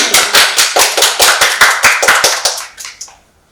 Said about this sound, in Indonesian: Kita berikan tepuk tangan untuk Kak Prayudi.